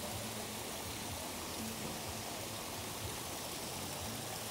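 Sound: strong wind

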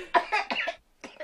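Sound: cough

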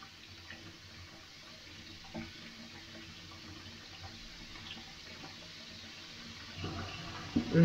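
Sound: water running into a container

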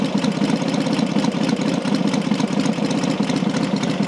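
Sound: classic motorcycle engine idling

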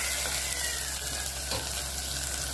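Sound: vermicelli frying and sizzling in oil

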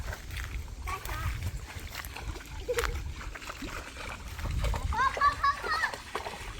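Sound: water splashing while scooping for small fish

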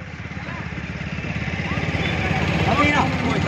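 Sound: motorcycle engine riding alongside runner

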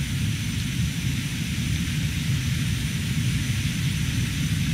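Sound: Fouga Magister jet at full throttle on takeoff

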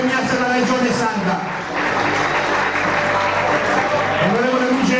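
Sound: applause at athletics awards ceremony

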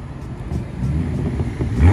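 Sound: sports car exhaust burble

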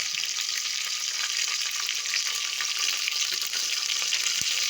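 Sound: frying okra in oil for sambar

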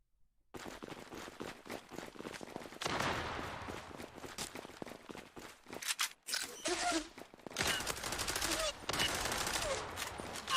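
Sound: gunfire in the video game Zula

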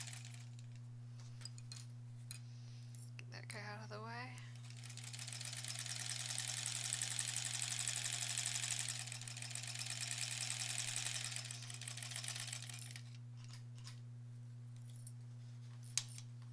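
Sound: sewing machine stitching a zipper pouch

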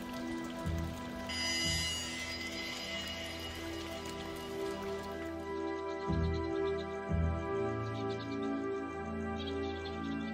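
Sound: rain falling

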